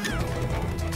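Structures smash apart in the video game Angry Birds 2: a dense, loud one-second crash of breaking and clattering game debris, heard alone.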